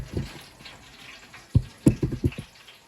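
Liquid is poured while cooking in a home kitchen, a soft trickle followed by a burst of sloshing, gurgling splashes up close.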